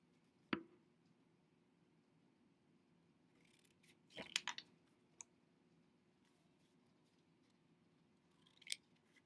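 Scissors snip paper in a quiet room, with one sharp cut early on and then a short cluster of snips and rustles, faint and close.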